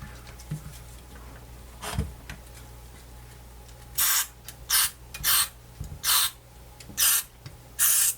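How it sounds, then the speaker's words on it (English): A spray can sprays short bursts into the circuit board of a Fluke 8600A multimeter under repair after six years unused, about seven quick hissing blasts in an irregular rhythm, near and fairly loud, with light handling clicks between. "at least we can spray"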